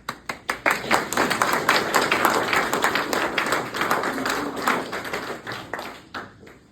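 An audience claps at a military retirement ceremony for an Arkansas National Guard officer, starting with a few sharp separate claps that swell into full, steady applause before thinning out near the end.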